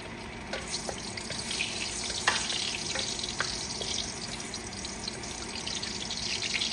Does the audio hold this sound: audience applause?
no